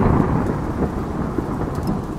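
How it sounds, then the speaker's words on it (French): A loud thunder clap from a storm over the sea rolls into a dense, continuous low rumble for the whole stretch, with a rain-like hiss beneath it. "Un coup de tonnerre éclata et des éclairs zébrèrent le ciel."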